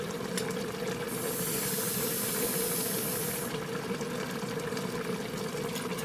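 Three and a half cups of water pour into a stainless steel Instant Pot inner bowl, a steady, even rush of liquid that holds at one level for several seconds.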